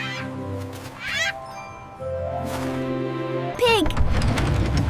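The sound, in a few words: Adelie penguin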